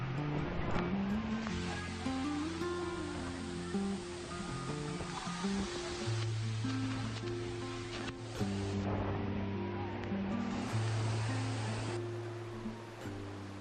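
Constant rushing water from Savatkada Waterfall in Ratnagiri, Maharashtra, roars in a broad, steady wash, partly covered by background music playing over it.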